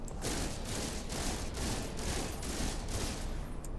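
The Boltcaster multitool weapon in the video game No Man's Sky fires a rapid, nearly continuous stream of loud, close bolt shots with a steady pulsing rhythm, with no talking.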